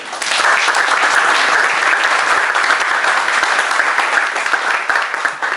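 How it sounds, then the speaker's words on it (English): An audience applauds after a talk on sustainable architecture in India, a loud, even roar of many hands clapping that swells quickly and continues steadily before fading slightly at the end. "one big round of applause for"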